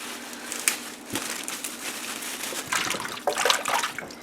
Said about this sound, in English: I'm going to go ahead and drain this water and fill it up again a couple times.